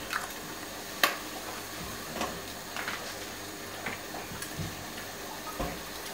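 Whole baby button mushrooms stirred into cottage pie filling in a pan, giving soft, quiet squelches and scattered light clicks at an irregular pace, with no talking.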